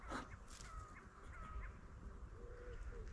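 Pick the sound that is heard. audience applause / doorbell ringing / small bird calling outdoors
small bird calling outdoors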